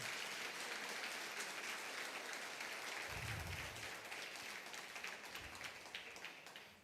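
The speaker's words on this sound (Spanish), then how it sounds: "si va a aplaudir, hágalo en serio" A church congregation applauding, a soft, steady wash of clapping heard from a distance that thins and fades toward the end.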